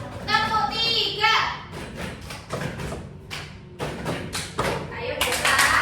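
Schoolchildren perform the 'tepuk 3' clapping routine in a classroom: a run of loud, close claps and thumps in short bursts, with kids' voices calling out between and over them.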